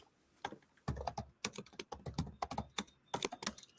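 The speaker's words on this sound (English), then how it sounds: "Let me just type this" Quick, irregular clatter of fingers typing on a computer keyboard, close and fairly quiet, in bursts of keystrokes with short pauses and no talking.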